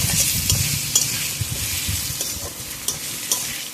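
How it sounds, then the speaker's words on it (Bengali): Potato pieces fry in oil with salt and turmeric, a close, continuous sizzle broken by repeated scraping and clinking strokes of a spatula against the pan, with no one talking. "এবার আরেকটু ভালো করে ভেজে নেব।"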